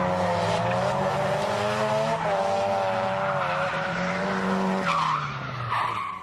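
A Mazda RX-7 drifts through a Kyushu street or track course with its tires squealing in long sustained howls over a strained engine, loud and close, dropping away near the end.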